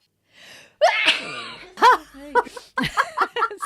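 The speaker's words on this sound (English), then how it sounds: "I have a really loud sneeze." A woman lets out a loud, close sneeze with a sharp intake of breath before it, followed by a short laugh and talk.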